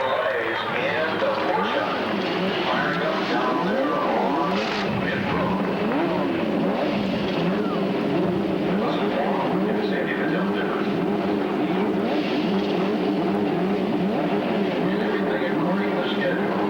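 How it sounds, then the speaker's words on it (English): Race car engines at the 1990 Marlboro Challenge roar and rev continuously in a dense mechanical drone. An announcer talks over the engine noise throughout. "Gentlemen, start your engines!"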